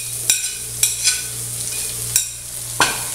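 Chopped onion fries on a griddle with a steady low sizzle, punctuated by several distinct scraping and tapping strokes of a spatula at irregular intervals.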